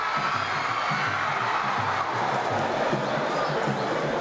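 Packed football crowd at Arena Joinville during a state championship final, where JEC lost 4-1 to Figueirense, roaring and chanting in a steady, dense wash of massed voices with rhythmic pulses underneath, distant and sustained.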